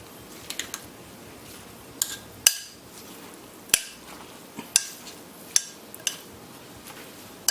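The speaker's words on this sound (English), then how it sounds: "Then we'll go ahead and mix this in." A spoon knocking and tapping against a bowl while pico de gallo ingredients are mixed, with sharp, irregular clicks spaced over several seconds and a quiet background between them.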